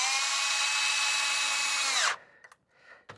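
A power drill driving screws into the lid of a Kelsey-Hayes ABS module from a 1999–2007 Chevrolet Silverado, a steady loud whine for about two seconds that winds down abruptly, followed by a few faint knocks.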